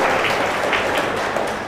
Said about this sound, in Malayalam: ഓക്കെ, കൈയടിച്ച് കർത്താൻ നന്ദി.